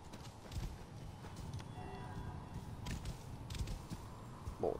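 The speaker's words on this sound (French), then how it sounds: "Le cheval." Horse hooves clip-clop at a steady walking pace in Assassin's Creed Origins, set in Egypt, the rhythmic thuds close and moderately loud over a continuous ambient game bed.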